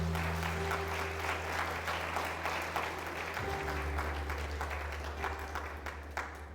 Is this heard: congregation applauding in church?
yes